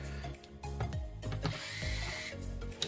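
An electric screwdriver drives screws into a Toshiba P50 laptop during a keyboard replacement, giving short whirring, ratcheting bursts close by, separated by brief pauses.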